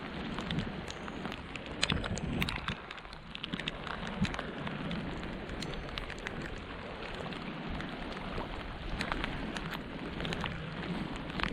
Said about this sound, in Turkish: Vallahi bildiğin dolu dolu yağıyor.